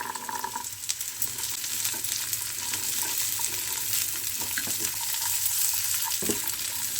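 Green peas tumble into lightly sautéed onions in a frying pan, setting off a steady sizzle with soft stirring scrapes and a few clicks of a spoon against the pan, no voices.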